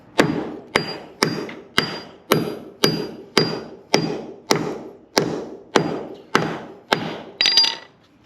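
A hammer drives 16-penny nails into concrete with about thirteen sharp, evenly spaced blows, each a hard metallic strike with a short ring, close up and alone.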